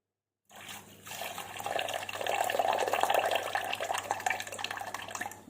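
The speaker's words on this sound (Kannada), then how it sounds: "ಬಸಿತೇನೆ ನೋಡ್ರಿ ಇದು ನೀರು ಇದರಲ್ಲಿ" Water pours and splashes steadily for several seconds as it is drained from soaked lentils, a continuous running trickle close by with a low hum beneath.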